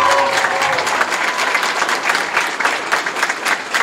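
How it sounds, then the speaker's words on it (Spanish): A crowd at an election certificate ceremony breaks into dense, loud applause, continuous clapping filling the space with a brief trace of voice at the very start. "Un aplauso aquí para Héctor."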